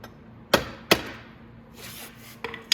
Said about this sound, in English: I'm just going to use a piece of wood and my hammer